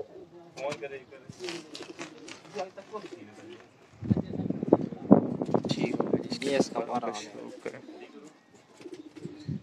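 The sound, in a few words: breeder pigeons cooing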